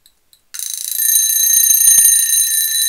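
A vintage mechanical travel alarm clock with a red case and round dial rings loudly and continuously after two faint clicks, a steady metallic bell trill close up.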